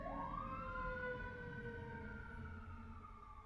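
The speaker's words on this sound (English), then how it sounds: "Yeah, there's just a lot of sirens." Emergency vehicle sirens wail outside, one rising and falling tone sweeping up then holding and fading slightly, heard faintly at a distance with a low background rumble.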